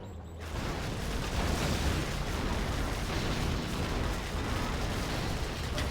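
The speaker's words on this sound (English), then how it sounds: "The Raptors do go down so quick to the tow missiles." Raptor jets get destroyed by TOW missiles in C&C Generals Zero Hour, a dense roar of explosions and blasts that bursts in after a brief quiet start and sustains loudly.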